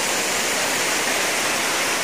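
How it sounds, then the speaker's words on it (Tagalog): A strong river current rushes over a spillway at San Juan Bago, a loud, dense, unbroken roar of water close by with no talking. "Napakalakas po ng agos ng ilog."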